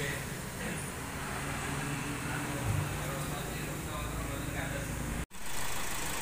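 A used car's engine idles with the oil filler cap taken off, giving a steady, even rumble over broad mechanical hiss. The noise cuts out briefly near the end, then resumes.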